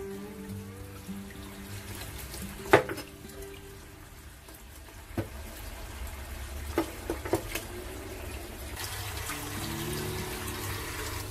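Tap water runs steadily in a kitchen sink as a boiled pork knuckle is rinsed, a continuous soft rush with a few brief clunks and splashes.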